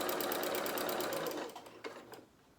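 A sewing machine stitches a limb on a plush bear with a fast, steady run of close mechanical whirring, then slows and stops, leaving a few separate stitch clunks at the end.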